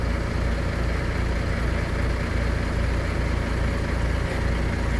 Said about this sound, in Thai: เดี๋ยวใช้รถไถคันเดียว